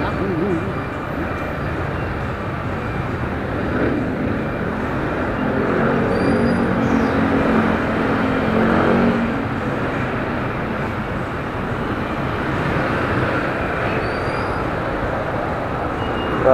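Busy road traffic heard from inside a vehicle in slow congestion, a constant broadband rumble of engines and tyres with passing vehicles rising and falling, and people talking over it.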